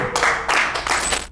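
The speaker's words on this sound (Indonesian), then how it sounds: "Tepuk tangan lagi." Three quick bursts of audience clapping at a live Indonesian talk-show taping, each short and lively, with brief gaps between them.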